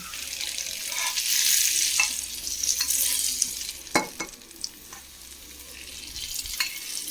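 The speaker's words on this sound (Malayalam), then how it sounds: "അതിലേക്ക് നമ്മൾ തിളച്ച് നല്ല ചൂടാക്കി എണ്ണയായിട്ടാണ് ഒഴിച്ചു കൊടുക്കുന്നത്" Boiling-hot oil is poured over mango pickle, giving a close, bright sizzle that swells and fades, with a few sharp clinks and stirring knocks toward the end and no talk.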